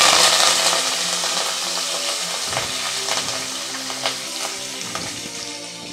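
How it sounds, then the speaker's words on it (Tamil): Lightly crushed garlic and curry leaves sautéing in hot oil, a loud, close sizzle that starts strong and settles slightly, with a few soft stirring knocks and no talking. "பூண்டு வந்து கொஞ்சமாக தட்டி வச்சுருக்கேன், அதை போட்டுக்கலாம்."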